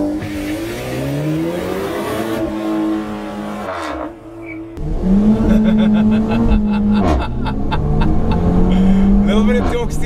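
A car launches hard from a standstill on a wet track in the rain, the engine droning then surging with rising revs and gear changes, loud and close, with a voice talking over it.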